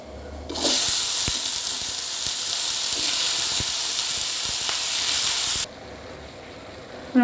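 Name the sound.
jackfruit pieces added to roasted rice in hot pan, sizzling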